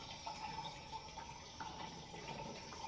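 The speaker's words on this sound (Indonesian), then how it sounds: "kemudian kita isi sampai airnya full ya" Water running steadily from a tap into a container, filling it to the brim, a continuous faint, close splashing gurgle heard alone.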